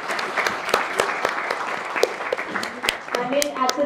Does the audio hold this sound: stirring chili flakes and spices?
no